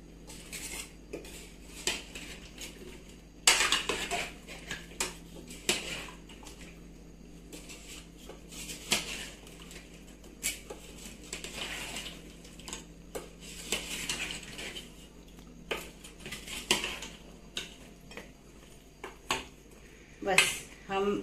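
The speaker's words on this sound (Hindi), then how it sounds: "हम चाशनी में उसको डुबा दिया है, अभी थोड़ा हिला झुला के ताकि पूरे" Balushahi sweets stirred in sugar syrup in a metal pan, giving repeated clinks and scrapes of utensil on metal, with irregular taps and clatters all through.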